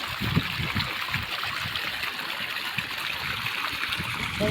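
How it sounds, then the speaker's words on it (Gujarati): Water gushing steadily from a 4-inch pipe with its valve opened halfway into a farm irrigation channel, a continuous broadband rush with a bubbling, gurgling texture, close and fairly loud throughout. "જો પાણીનો ગજેડો અડધો વાલ ખોલ્યો ને તો આટલું પાણી આવે છે"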